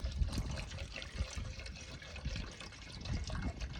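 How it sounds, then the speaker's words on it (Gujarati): Water being poured into a cooking pot for Maggi noodles outdoors in a forest area, a steady splashing, trickling stream at close range that runs throughout without a break. "જો આપણે પાણી નાખી દીધું છે"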